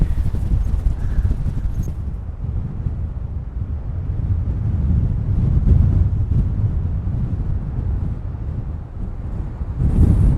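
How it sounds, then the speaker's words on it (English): Gusty wind on a quiet island roars across the microphone in low, rumbling bursts that rise and fall, loud and constant, with a few faint thuds underneath. "Oh, it is windy."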